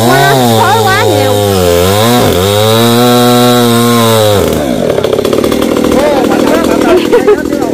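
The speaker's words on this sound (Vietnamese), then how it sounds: "Mấy cô nãy giờ chạy giật cho máy nổ không á, khói quá nhiều." Chainsaw engine running loud and close while a coconut tree is cut down, pitch rising and falling as it revs, then shifting into a rougher cutting drone midway; the saw is reported to be smoking heavily.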